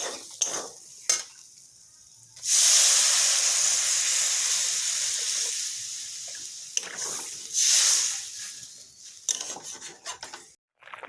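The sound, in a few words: water poured into cooking paneer curry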